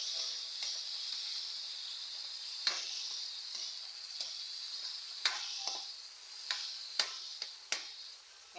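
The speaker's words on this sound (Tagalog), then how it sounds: "Hintayin lang natin maluto-luto ng konti yung ating kamatis mga idol." Tomatoes fry in a pan with a steady, fairly quiet sizzle, broken by occasional clicks and taps of a utensil stirring.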